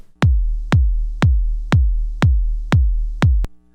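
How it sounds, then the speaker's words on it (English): Synthesized kick drum built on a Make Noise DPO oscillator with Maths shaping the envelope, striking seven times in a steady, evenly spaced pulse, each hit a loud, punchy thump with a deep decaying boom and no voices. "So I started with an actual kick that I made on the DPO using the maths as an envelope to create a kick"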